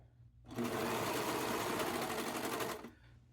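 Serger running a short burst on fabric tissue holders, a loud, rapid, even buzzing whir that starts abruptly, holds for about two seconds and cuts off.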